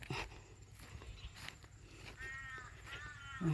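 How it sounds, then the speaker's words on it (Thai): Several harsh crow caws ring out over a low outdoor rumble, with a few soft thuds like footsteps nearby. "เสียงอีกา"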